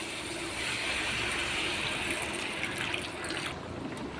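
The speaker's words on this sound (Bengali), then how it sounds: "এবার দিয়ে দেবো সামান্য জল।" Water is poured into a pan of mutton curry being cooked, a steady hissing, bubbling pour that runs close and fairly loud for about three and a half seconds before easing off.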